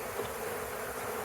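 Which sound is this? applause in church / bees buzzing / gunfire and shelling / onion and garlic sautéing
bees buzzing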